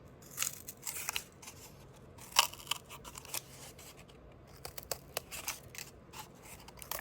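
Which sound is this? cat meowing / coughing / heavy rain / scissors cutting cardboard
scissors cutting cardboard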